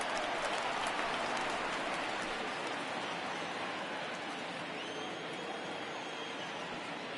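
A stadium crowd in the baseball video game MLB The Show 19 roars and rises for a full-count pitch, a dense, steady wash of cheering that holds at a fairly even level throughout.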